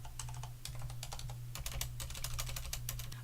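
Rapid clattering keystrokes from a Corsair Strafe RGB keyboard with Cherry MX Silent switches, typed continuously at a close distance with soft, muted clicks and a steady low hum underneath.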